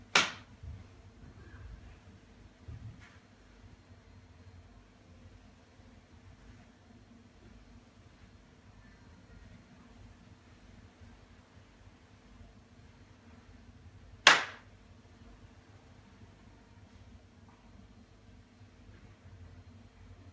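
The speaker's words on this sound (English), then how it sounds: "I'm going to clap my hands every few seconds." Two sharp, crisp hand claps ring out about fourteen seconds apart in a quiet room, with only faint background hum between them.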